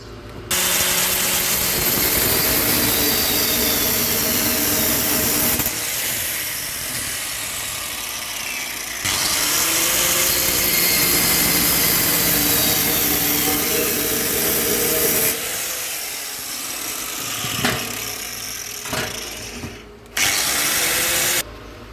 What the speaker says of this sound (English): this one we cut with the lathe machine